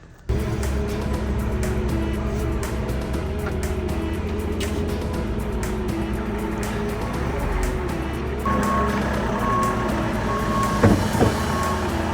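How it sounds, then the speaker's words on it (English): Telehandler driven off the back of a truck at a work site, a steady loud diesel engine drone running throughout, with a shift in pitch partway through and a few sharp knocks near the end. "gonna chuck this telehandler off here"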